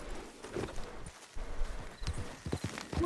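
Horse hooves clop in Red Dead Redemption 2, a few uneven close hoofbeats standing alone without talk over low game ambience.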